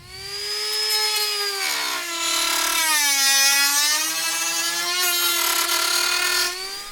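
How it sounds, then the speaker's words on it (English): A Dremel rotary tool cuts a hole through plastic on an RV fridge, its high whine running steadily for several seconds with the pitch sagging and rising as the bit loads and frees, loud and close with no talk. "I'm going to grab my Dremel and I'm going to cut a hole in this plastic"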